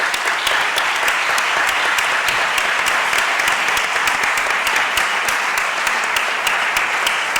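Audience applause at the closing session of a national congress, loud, dense and sustained with no break, a large crowd clapping evenly throughout.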